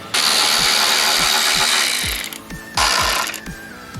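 A ratchet works loose the pinch weld bolts on a Jeep Rubicon, giving rapid, close, repeated clicking over a loud hissing wash of noise, with a short pause midway before the clicking resumes.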